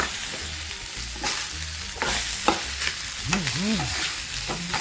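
Peanuts and chopped coriander for peanut chutney fry in a pan. A steady broadband sizzle runs throughout, with intermittent scraping and stirring strokes, all close and fairly loud with no voices.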